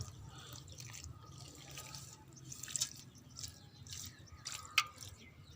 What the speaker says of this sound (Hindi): आपने पानी कुछ इस तरह देना है कि चारों तरफ जो है ना पानी हमारे पौधों को बराबर मिल जाए